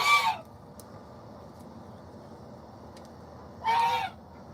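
Backyard poultry flock of geese, ducks, turkeys and chickens at feeding time, with two short loud honking calls at the start and near the end over a steady low murmur of birds.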